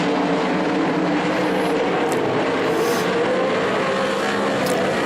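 A field of six 360 sprint cars roars off the start of a heat race at Skagit Speedway, a loud, sustained engine blare with no voices over it.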